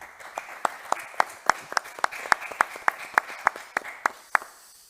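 An audience at a round table discussion applauds, giving a dense run of crisp, rhythmic claps that carries on for a few seconds before tapering off near the end.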